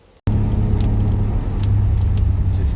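A car with a Toyota 1JZ engine cruises in wet weather; after a brief quiet start, a loud, steady, deep engine drone and rumble from inside the car holds alone, with light tyre and rain noise.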